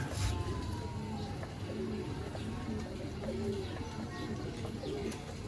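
Low soft cooing of Sialkoti pigeons repeating over a steady noisy background, with faint chirps of other birds mixed in.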